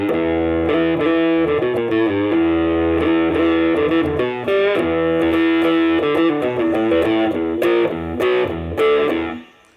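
Electric guitar played through a JHS AT Plus drive pedal with the gain fully up, heavily distorted sustained chords and melodic notes ringing loud and continuous, then stopping abruptly at the end.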